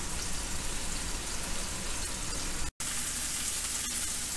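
Pork chops seasoned with allspice and thyme sizzle steadily in a hot pan, a dense, even crackle of frying fat that holds through the clip apart from one brief cut.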